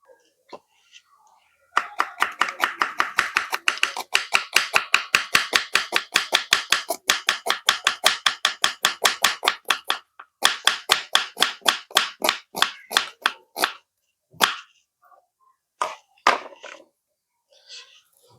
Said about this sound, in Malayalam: ചെറുതായിട്ട് വെറും എത്ര നൈസാവോ അത്രയ്ക്ക് നൈസായിട്ട് നമുക്കിതൊന്ന് അരിഞ്ഞെടുക്കണം